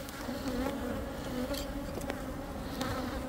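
A sustained buzz rises from honeybees in an opened hive, a dense close hum with occasional faint clicks and knocks over the steady drone.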